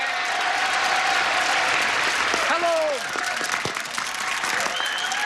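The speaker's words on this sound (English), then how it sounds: "let's have a brisk round of applause for Lisa Gold and Mary Suggs." A 1980s game show studio audience applauds contestants, a loud, sustained wall of clapping while voices and a host talk over it.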